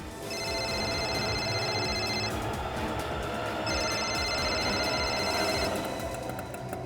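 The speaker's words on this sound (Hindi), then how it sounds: "तुम जल्दी फोन लगाओ उसे पहले" Telephone ringing on a call, with steady electronic ring bursts repeating under a dense background hum, two long ring cycles heard fairly loud, with no one talking.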